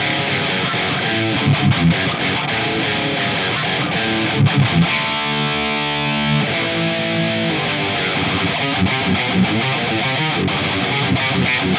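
Heavily distorted electric guitar through a Boss Katana amp in E standard, chugging through a loud, continuous thrash riff with a brief sustained chord in the middle.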